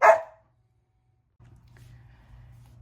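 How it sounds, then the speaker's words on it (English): A dog barks once outside, loud and sharp at the start, followed by silence and then a low hum. "Somebody walking a dog out there."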